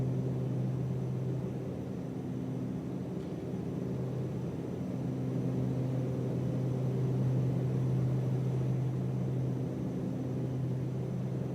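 A steady, droning engine hum from a Cessna F406 Caravan II twin turboprop in Microsoft Flight Simulator 2024 runs unchanged throughout, a continuous low rumble with no voices.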